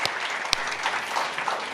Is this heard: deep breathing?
no